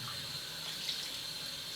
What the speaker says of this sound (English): Let's get some hot water.